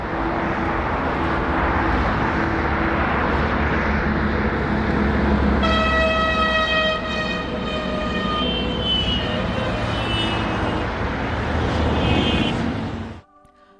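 The Hubli–Yeshwanthpur Weekly Express rumbles past near Ireli railway station, a long, loud two-tone horn blaring over the steady rolling roar of the train before the sound cuts off abruptly.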